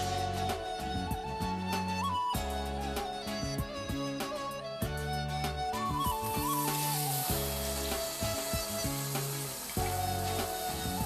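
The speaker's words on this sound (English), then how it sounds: "We're gonna sear this off in a pan." Pork shoulder sears in a hot pan, a soft, steady sizzle and crackle under rhythmic thumping background music.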